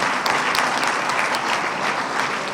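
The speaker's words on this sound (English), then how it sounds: "A big clap for all of you" A lecture audience at IBA Karachi breaks into loud, sustained applause, a dense, even wash of clapping close by that holds steady throughout.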